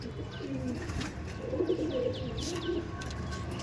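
Madrasi pigeons give low, rolling coos close by over steady background noise, a few overlapping phrases in a short burst.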